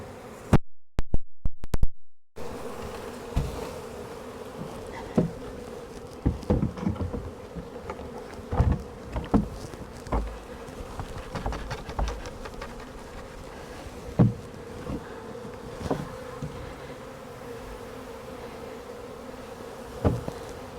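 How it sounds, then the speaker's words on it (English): A steady low hum of honey bees fills the scene around a hive as a swarm is dumped in, with scattered louder buzzes and a few sharp knocks; a brief burst of loud thumps comes at the start. "I'm going to dump the rest of the bees into the hive."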